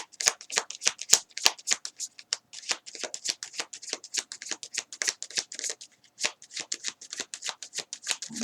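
Tarot cards being shuffled and drawn by hand, a rapid run of crisp riffling flutters and flicks repeating close up with brief pauses between bursts, no voice over them.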